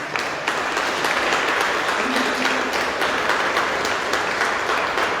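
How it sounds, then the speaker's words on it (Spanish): A church congregation applauds loudly and steadily, dense continuous clapping for several seconds with a faint murmur of voices underneath. "vamos a darle un fuerte aplauso a Jesucristo"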